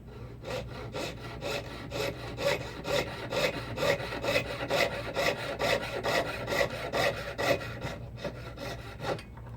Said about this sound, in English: Get my trusty jeweler's saw and get a good square cut here